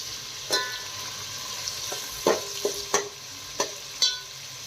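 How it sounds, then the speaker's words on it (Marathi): Mixed vegetables fry in a pan with tomatoes and browned onions, a soft continuous sizzle punctuated by several sharp spatula knocks and scrapes at an irregular pace, close and fairly quiet, with no talking. "मग ह्या सगळ्या भाज्या टाकते मी"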